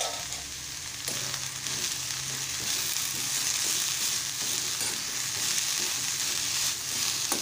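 Taakla greens are sautéed in a hot pan with a steady, dense sizzle and frying hiss that runs throughout. Soft stirring scrapes sit close under the hiss, and no one speaks.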